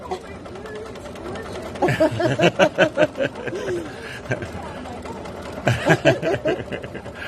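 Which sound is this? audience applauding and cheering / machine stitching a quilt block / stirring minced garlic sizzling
machine stitching a quilt block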